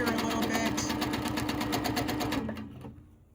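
A sewing machine running fast for free-motion quilting, stitching a feather pattern with a rapid, even mechanical chatter that holds close and loud, then slows and stops near the end.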